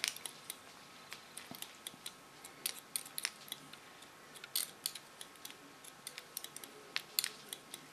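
Scissors snip steadily through hair during a short pixie cut, a quick series of crisp, close clicks that come in small bursts and spread evenly over several seconds in a quiet room.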